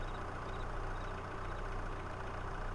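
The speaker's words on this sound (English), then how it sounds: "Turn on tractor." A tractor engine in Farming Simulator 22 idles with a steady, unbroken low rumble. It is moderately loud and constant throughout, with no talking.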